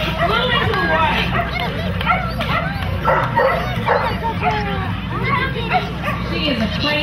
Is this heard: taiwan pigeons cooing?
no